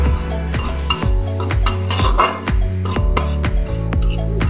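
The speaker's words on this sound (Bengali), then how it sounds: "ঘি এতে ব্যবহার করছি না, শুকনো খোলাতেই আমি ভেজে নিচ্ছি" Something is dry-roasted in a pan without ghee for a raspuli sweet, a spatula scraping and clinking loudly against the metal in quick, rhythmic stirring strokes close by.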